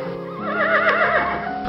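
A loud donkey bray used as a sound effect in a children's story, a single drawn-out wavering call rising and falling for over a second, close and alone.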